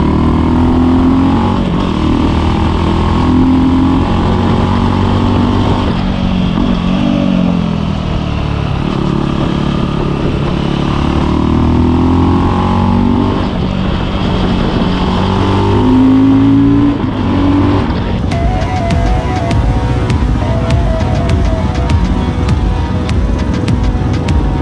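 Fantic Caballero Deluxe motorcycle with a different exhaust, engine running loud and close with a rough, throbbing note that rises and falls through several revs, then settles into a harsher, busier tone near the end.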